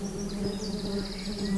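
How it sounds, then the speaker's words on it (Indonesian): Bees fly among flowers, making a steady, close, continuous buzz that holds for the whole short stretch. "lebah terbang ke sana kemari dan hinggap pada bunga-bunga"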